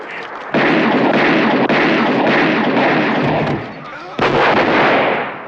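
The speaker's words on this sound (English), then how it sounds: "The police react the way any highly trained response unit led by Chuck Norris would, by shooting all the bullets." Heavy police gunfire from the 1982 film Silent Rage, a loud sustained barrage of shots that briefly drops off before resuming at full force.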